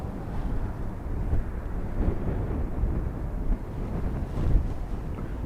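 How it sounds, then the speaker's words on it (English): Gusty crosswind blows at Dublin Airport during outdoor plane spotting, a constant low, rumbling roar buffeting the microphone with no voices. "So these gusty crosswind conditions expected to continue till about 10, half 10."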